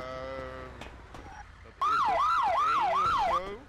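A police siren in GTA 5 roleplay wails loud and close in repeated rising-falling sweeps for about a second and a half, after a stretch of talk and game noise.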